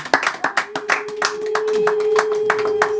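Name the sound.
applause and ululation at a Rwandan wedding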